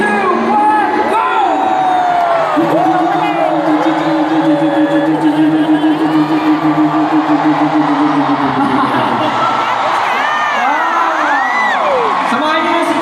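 A concert crowd at a fan meet shouts and cheers continuously and loudly, with sustained whoops and rising yells throughout.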